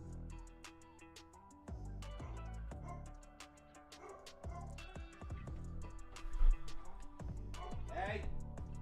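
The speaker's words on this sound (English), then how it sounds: "Dogs." Dogs bark in short, sharp bursts through the clip, close by and fairly loud, with music and a voice speaking around them during a co-working stream.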